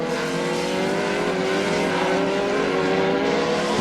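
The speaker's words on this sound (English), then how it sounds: "You can tell the different engine note between these V8s from Zytec" Loud, continuous howl of 2002 Formula 3000 race cars' Zytec V8 engines at high revs in Brazil, a steady sustained roar with no talking.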